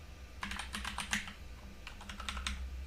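Two quick bursts of typing on a computer keyboard, crisp close key clicks in rapid runs separated by a short pause, over a faint low hum.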